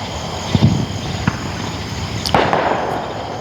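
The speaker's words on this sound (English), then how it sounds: "So you can still hear people shooting off fireworks in the background." Fireworks set off by people on the 4th of July pop and crackle in a few scattered bursts at a distance, over a steady outdoor night background of insects.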